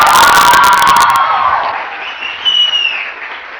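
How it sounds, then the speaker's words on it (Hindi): A studio audience at a morning TV talk show claps in a brief, loud burst that stops after about a second, overlapping a bright musical jingle that carries on and fades out. "तालियां।"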